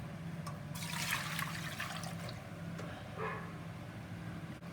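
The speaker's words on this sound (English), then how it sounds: "Now water is also like a lukewarm now, so we can just drain out the water." Lukewarm soaking water drains off cauliflower florets, a gushing, splashing pour that tapers into trickles and a second smaller splash, close and moderately loud with no talking.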